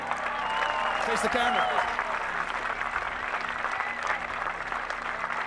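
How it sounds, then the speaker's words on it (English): Applause from a crowd at the Ultrabowl 3 prize ceremony fills the whole stretch, steady and moderately loud, with a voice speaking briefly over it. "Let's give a round of applause"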